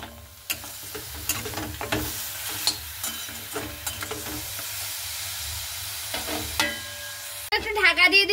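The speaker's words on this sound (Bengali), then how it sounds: "দিয়ে এবার খুব ভালো মতো করে নাড়াচাড়া করে নেব" Kohlrabi and fried lentil dumplings are stirred in a hot pan, with scraping spoon strokes at an irregular pace over a steady sizzle and hiss, ending in a louder burst of frying.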